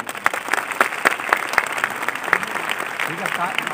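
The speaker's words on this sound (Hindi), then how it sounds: "सबका आप दिली एक खैर मकदम कर दीजिए तालियों बजाकर।" Audience applause welcoming guests at an event honouring Sahir, a moderate round of claps with distinct individual claps, with talk running underneath for most of its length.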